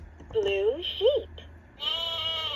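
Leapfrog Fridge Farm magnetic toy (2007 version) playing a synthetic sheep bleat, a couple of short wavering baa calls followed by a brighter electronic jingle, in a quiet room.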